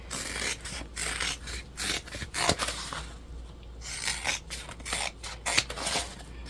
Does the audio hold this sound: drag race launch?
no